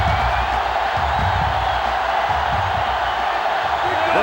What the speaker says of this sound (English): The sellout crowd is really making a difference now as these guys can't even call the play